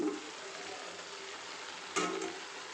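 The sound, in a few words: potatoes and onions frying with meat in a pan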